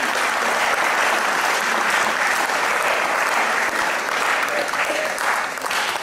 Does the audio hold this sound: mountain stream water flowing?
no